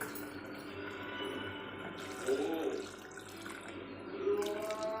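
Water poured into a pressure cooker pot of mutton for Tamil mutton gravy, a quiet steady trickle and splash filling the pot close by, with faint background murmur.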